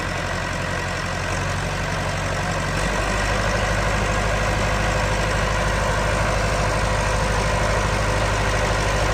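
A 1993 Vermeer 1250BC machine's engine settles into a loud, steady idle right after starting, a deep continuous rumble heard close up with no voices.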